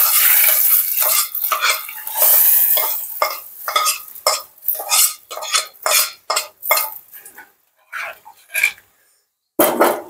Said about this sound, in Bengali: এখন ডালের মধ্যে দিয়ে দেব পেঁয়াজ রসুন, লাল লাল হয়ে আসছে